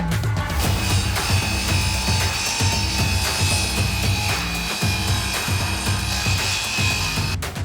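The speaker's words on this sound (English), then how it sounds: "it doesn't feel right putting an angle grinder blade, a diamond blade or multi-construction blade through a lump of timber" An angle grinder fitted with a Marcrist MC850 diamond multi-construction blade cuts through a block of timber, producing a loud, harsh, continuous rasping whine with a rhythmic grinding pulse throughout.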